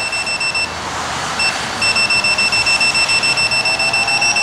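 An electric unicycle's loud speed warning beeps in rapid, evenly spaced pulses, briefly pausing before resuming and continuing steadily to the end.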